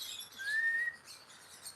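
A pet bird lets out a single clear rising whistle-like chirp, close and fairly loud, over a light hiss of room noise, with no talk.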